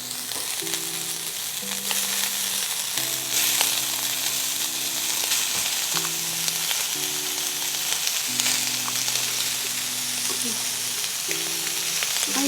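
Fried rice with crab and leftover Spam sizzles steadily in a hot pan, a continuous dense crackle with a few stirring scrapes, close and loud, with a faint tonal hum running underneath.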